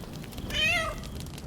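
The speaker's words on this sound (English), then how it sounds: "Oh, we actually got a cat." A cat in the video game Baldur's Gate 3 gives a single clear, drawn-out meow that rises then falls, heard close over a low, steady background hum.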